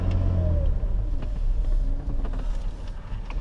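A car pulling away to start driving, a steady low engine rumble with some wind noise and faint rattles, close and fairly loud throughout.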